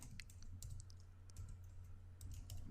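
A computer keyboard clicks under quick, irregular typing as code is entered, the short crisp keystrokes coming in small bursts over a low steady hum, faint and close, with no talk.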